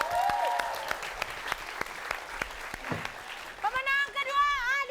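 Applause for four contestants on a comedy game show stage, a burst of clapping with sharp individual claps, joined near the end by excited talk and laughter from the crowd.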